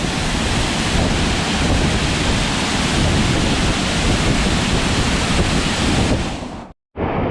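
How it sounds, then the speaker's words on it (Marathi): Loud, continuous roaring rush of wind, broad and steady, cutting out abruptly near the end before briefly returning. "वारा लागायला सुरुवात होते"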